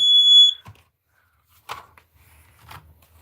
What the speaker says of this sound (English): I've got 3 smoke alarms in here and carbon monoxide detectors.